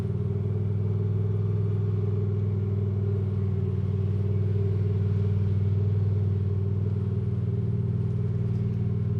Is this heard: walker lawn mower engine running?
yes